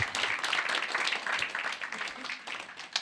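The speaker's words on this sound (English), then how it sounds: "Let's welcome them with a round of applause" An audience at a political hustings claps steadily in a hall, with dense overlapping applause that holds for the whole stretch and tapers slightly near the end.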